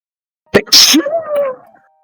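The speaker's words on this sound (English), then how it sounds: "That is a particular sneeze." A single sharp sneeze, loud and close, with a quick intake before it and a short trailing vocal groan afterward.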